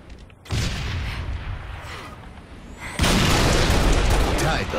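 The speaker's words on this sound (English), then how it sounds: "Watch the nade, dude, watch the nade." A grenade goes off in a fast-paced shooter video game, a heavy booming blast over continuous gunfire and game noise, with a second loud burst joining near the end while players talk over it.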